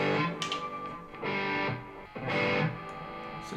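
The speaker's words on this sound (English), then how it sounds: "Even for this distortion tone" An electric guitar plays through a distorted amp tone from a Neural DSP plugin. A few sustained, buzzy chords ring loud and close, with short pauses between the strums.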